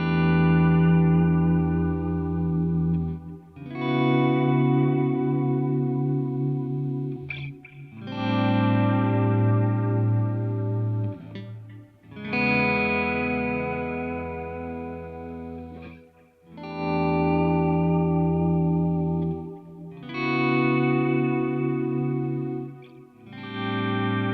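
Electric guitar through an amp with reverb, delay and a volume pedal, sustained chords swelling in and out in several waves, with echoing tails hanging behind each, loud with no speech.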